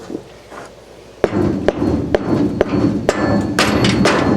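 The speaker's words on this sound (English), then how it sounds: "Always use a rubber hammer when pounding" A rubber hammer pounds on an ATV wheel, about eight dull thuds at uneven intervals, close and fairly loud, after a quiet start.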